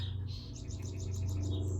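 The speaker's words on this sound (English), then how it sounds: "hopefully you can hear those birds chirping in the background." Small birds chirp and tweet faintly in the background during a slow, stretchy yoga flow, a steady run of short repeated calls over a constant low hum.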